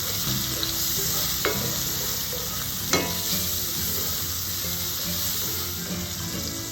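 Onions sizzle steadily in a steak pan, a bright continuous frying hiss with occasional scraping stirs and a couple of sharp clinks from utensils.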